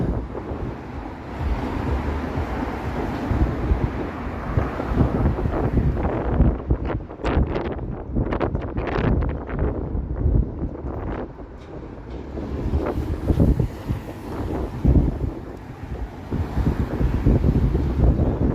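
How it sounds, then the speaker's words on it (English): Strong gusts batter the microphone outdoors on a Toronto city street on a late-May afternoon, a continuous roaring rumble that swells and eases in waves with no talking. "Crazy wind again."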